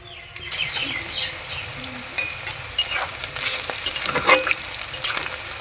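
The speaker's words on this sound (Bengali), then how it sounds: "পেঁয়াজটাকে একটু লাল লাল করে ভেজে নেব।" Chopped onions fry in hot oil alongside dry red chillies and bay leaves, a steady close crackling sizzle with occasional sharper pops and spoon scrapes running throughout, no voices.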